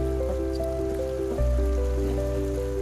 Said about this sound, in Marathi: नदीचं पाणी खळखळ